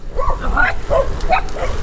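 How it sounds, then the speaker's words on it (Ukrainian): A dog gives a few short, gruff barks up close, spaced irregularly over a couple of seconds. "Так, собака нападає на останнього зазвичай."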